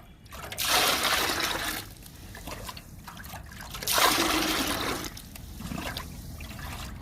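Green-grass liquid fertilizer is poured onto fruit plants in two separate gushes with trickling and splashing in between, nearby and moderately loud, with no talking.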